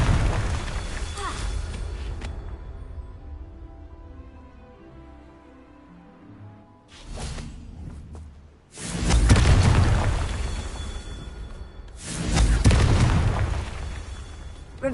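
A Confringo fire spell explodes in Hogwarts Legacy, with several loud booming blasts separated by quieter rumbling gaps.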